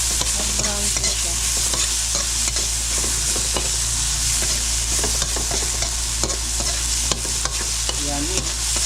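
Chili frying in a pan until browned for spicy adobo with egg: a steady, close, broadband sizzle runs throughout, with occasional light clinks of stirring and no speech.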